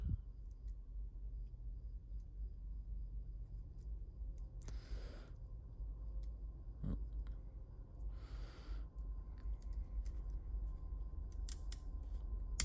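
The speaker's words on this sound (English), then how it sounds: "Trigger, which does have a trigger safety, pulls back." Ruger 57 pistol trigger with a trigger safety is pulled and released twice, giving faint, close mechanical clicks and a short scraping in a quiet room.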